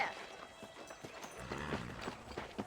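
Horse hooves clip-clop in a steady rhythm in Red Dead Redemption, faint and at a walking pace, with quiet game ambience around them.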